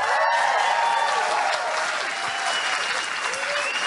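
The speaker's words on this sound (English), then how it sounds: "That was a great applause." A studio audience at a political comedy talk show applauds loudly and steadily, a dense wash of clapping that fills the whole stretch without pause, with a faint voice underneath.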